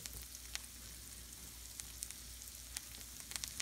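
Flour- and egg-coated chicken pieces browning in olive oil in a skillet give a steady, fairly quiet sizzle with scattered small pops and crackles.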